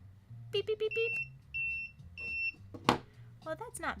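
Four quick beeps imitated by a voice, then several short, steady electronic-sounding tones in separate bursts, with a low hum underneath.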